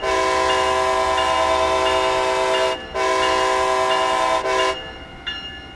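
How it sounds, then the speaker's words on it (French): An American Acela Express train horn blares loud and near in a long sustained blast, then cuts off briefly before a second blast and a short final toot, with the train's rumble beneath. "Oh, le klaxon bien américain."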